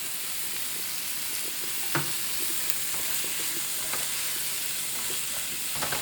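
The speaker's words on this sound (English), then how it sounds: "we're going to saute these onions until they're translucent" Onions with Creole seasoning sautéing in a pan, a steady, fairly quiet sizzle with occasional soft stirring clicks and taps over the hiss.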